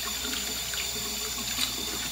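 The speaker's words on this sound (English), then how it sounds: "now you gotta rinse the brush out. Get some water on there so you can try and rinse it off" Tap water runs steadily into a sink to rinse out a hairbrush, a constant close splashing hiss with no talk over it.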